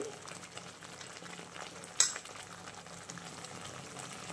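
Paneer masala cooking in a pan while coriander powder, kitchen king masala, homemade masala, chutney and turmeric are stirred in, giving a steady soft sizzle with a brief scraping clatter near the middle.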